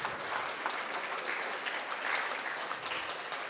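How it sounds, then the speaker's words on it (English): A university forum audience gives the panel a sustained round of applause, steady dense clapping throughout with no talk over it. "Can we have another huge round of applause for the awesome panel?"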